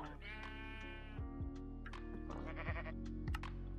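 Sheep in the video game Minecraft bleat several times in quick succession, clear synthetic baas layered over a looping background tune, with no talk.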